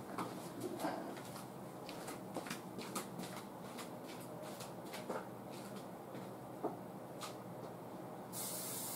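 Butter cooking spray is sprayed onto a spatula while making Rice Krispies treats, giving quiet short hissing bursts at an irregular pace and a longer, stronger hiss at the end.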